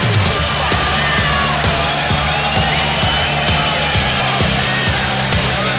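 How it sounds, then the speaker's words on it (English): A crowd at a no-holds-barred fight event roars continuously with shouts, whoops and cheering, loud and dense throughout with no clear single voice. "The crowd is absolutely alive."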